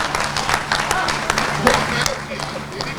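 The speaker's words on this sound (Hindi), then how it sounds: "एक बार जोरदार तालियां बजाइए।" An audience claps at a Hindi-language public gathering, a continuous crackling wash of applause that stays fairly loud throughout, with a voice partly mixed in.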